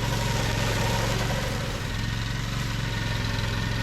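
A Grillo G110 walk-behind garden tractor with a flail mower attached runs steadily close by, its engine a constant loud drone with a low, even rumble and no speech.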